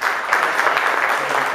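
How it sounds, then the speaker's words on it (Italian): An audience gives a short burst of applause for the guests, a brief, fairly loud wash of many hands clapping with no voices over it. "vi chiederei un applauso per i nostri ospiti"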